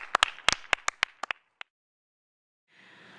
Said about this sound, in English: let's give a big cheer out for Kim Welge